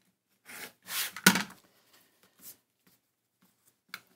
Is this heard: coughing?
no